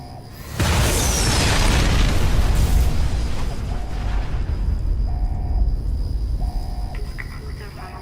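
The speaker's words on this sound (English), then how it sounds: "Perhaps that's the largest explosion in the game, I don't know, but it leaves a scorch mark on the frickin' planet" Huge explosion at Helios One in Fallout: New Vegas, a sudden, loud blast that erupts into a long, roaring rumble and slowly decays, with a repeating electronic beep faintly over it.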